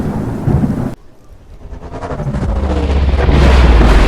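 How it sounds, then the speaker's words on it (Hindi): A loud thunder crack with lightning in a storm cuts off abruptly, then a deep rumble builds and rolls on under heavy wind and rain noise. "अचानक बिजली कड़की और आसमान में तैरते बवंडर को चीर दिया।"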